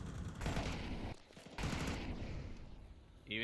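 Tech 9 pistol gunfire during a competitive esports video game match: dense bursts of rapid shots in two loud stretches with a brief lull between, ending on a short bright chime, fairly close and clear.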